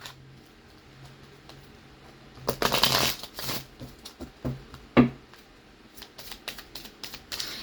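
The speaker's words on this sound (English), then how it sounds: "All right, let's get some oracle cards." Oracle cards being shuffled close by, a quiet run of crisp riffles and soft card taps in short bursts against a hushed room, with no talking.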